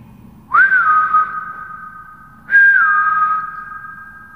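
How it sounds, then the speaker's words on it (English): A person whistles two long notes a couple of seconds apart, each sliding up sharply and then holding a steady tone, clear and close. "I began to put out a whistle to attract attention."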